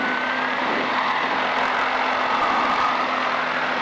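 A light aircraft engine revs up before take-off, giving a loud, steady droning hum with a constant tonal whine inside a cockpit, sustained evenly without any voices.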